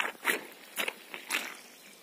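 Footsteps press into a waterlogged raised peat bog in late spring. Several separate wet squelching crunches sound close by at an uneven walking pace, with quiet gaps between them.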